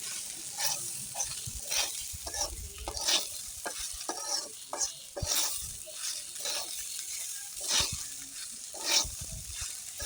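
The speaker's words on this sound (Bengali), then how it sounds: "শুধু হলুদের গুঁড়ো আর সজের গুঁড়ো দিয়ে এই চালটা ভালোভাবে ভাজতে হবে" Rice frying in a pan with only turmeric and spice powder while being stirred, making steady close sizzling with repeated scraping stirs and no talking.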